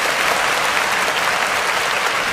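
Loud, dense audience applause fills a Tamil festival debate hall as a professor is welcomed to the stage, sustained and even from start to finish with no speech over it.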